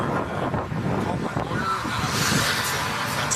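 Cars rush past on a road beside a roadside traffic stop, making a steady loud roar mixed with wind buffeting the microphone, with no clear gaps between vehicles.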